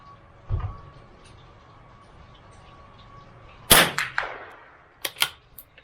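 A CZ 457 MTR .22LR bolt-action target rifle fires one sharp, loud crack after a quiet stretch with a soft thump and faint hum. Several lighter clicks and clacks from handling the bolt follow.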